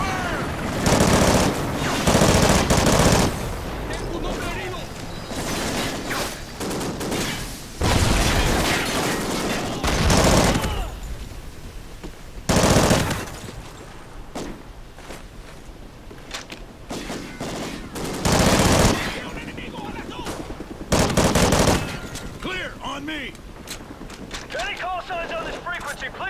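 Gunfire in the Call of Duty: Ghosts campaign: repeated bursts of automatic weapons and heavy fusillades, loud and close, separated by short quieter gaps over a background of shouted voices.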